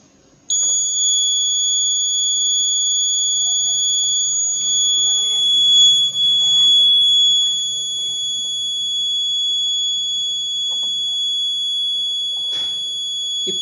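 A steady, piercing electronic buzzer from an ARM7 LPC2148 temperature-monitoring system, triggered when temperature exceeds 50, sounds continuously for over ten seconds, loud and unbroken, with faint handling noises beneath.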